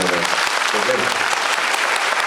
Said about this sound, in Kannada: ಒಂದ್ಸಲ ಚಪ್ಪಾಳೆ ಹೊಡೀರಿ ನೋಡೋಣ